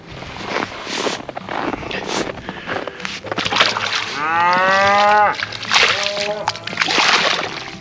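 Cows mooing as they come through snowy woods to feed on an Oklahoma farm during a snowstorm, with one long, loud, close moo standing out among shorter calls while a person calls to them.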